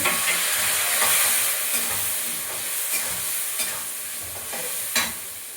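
Spices and whole dried chillies sautéing in a pan: a steady close sizzle and hiss with scraping stirs and occasional sharper spatters, no voices.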